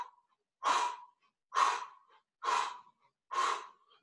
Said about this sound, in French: Inspire ici,